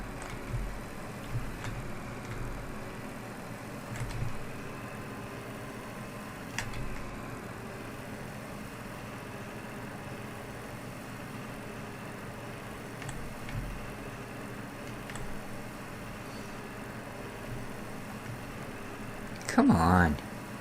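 A tractor pulling a couple of empty trailers in the Farm Expert 2017 video game produces a continuous low engine drone with occasional louder bumps. Someone talks over it throughout.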